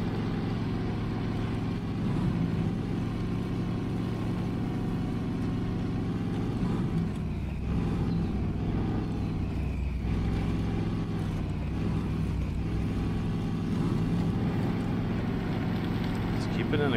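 A truck engine in SnowRunner, shifted into high gear, drones steadily and loudly for the whole stretch with a low, constant rumble, while someone talks over it.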